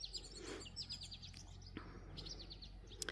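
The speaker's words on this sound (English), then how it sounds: "You can hear the birds." Several birds chirp and sing in a sunny Minnesota meadow in summer, quick bright tweets repeating in bursts at moderate distance, with a light breeze and no talking.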